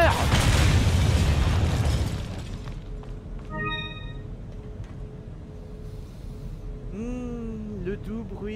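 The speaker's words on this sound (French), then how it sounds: "Le doux bruit de la chair roussie par l'explosion d'un lance-roquette." A rocket launcher blast in Resident Evil 4 gameplay booms loud and broad for about two seconds, then fades into a rumbling tail with metallic rings and scattered game sounds.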